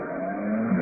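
A car pulls away from a road through a park, its engine revving in a loud, steady drone that rises slightly toward the end.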